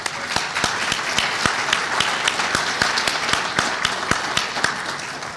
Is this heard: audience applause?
yes